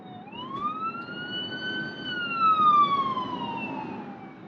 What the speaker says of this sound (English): I do have an ambulance coming up behind me